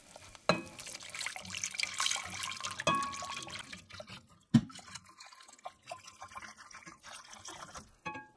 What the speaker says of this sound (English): I'm gonna pour in 1 cup of the chicken stock into our roux